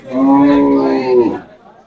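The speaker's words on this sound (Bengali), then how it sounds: "অনেক বড় সড়ো গরু একটা দেখতে পাচ্ছি ফ্রিজিয়ান জাতের গরু" A cow lets out one loud, close moo lasting just over a second, then it trails off into quiet.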